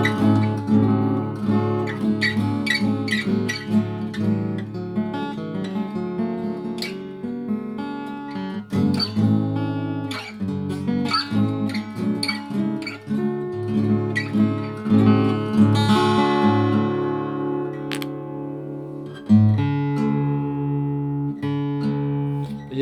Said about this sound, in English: Now I'm purposely having a lot of space here so you can hear the guitar.